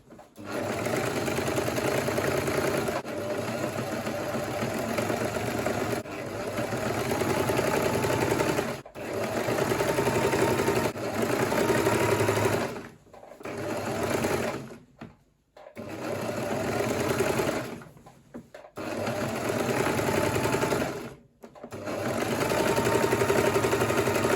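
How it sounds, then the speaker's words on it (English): A sewing machine stitches the side seam of a kaftan top in steady, loud runs of rapid needle chatter. Several short pauses and stops break the stitching, with no talking. "Sewing the second side as well."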